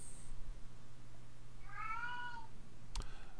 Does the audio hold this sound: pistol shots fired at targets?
no